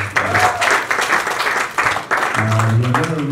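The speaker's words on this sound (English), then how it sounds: "Can we clap for her?" An audience claps loudly and steadily, with a few cheers or voices rising over the clapping in the final second.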